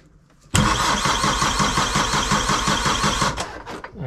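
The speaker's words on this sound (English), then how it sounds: "There's a starter button here that you press, and the engine should start." A cold Volvo Penta D2-75 marine diesel on a boat cranks briefly and catches, then settles into a loud, steady, throbbing idle before cutting off near the end.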